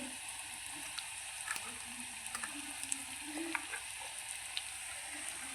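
Onion sautéing with turmeric in a pan for baingan bharta, a soft continuous sizzle with occasional light scrapes and taps of a stirring spoon, close but quiet, with no speech.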